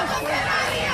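Young student protesters marching down Avenida Afonso Pena in Campo Grande, with a sound truck and placards, shout slogans together in a dense, loud crowd roar that fills a brief moment.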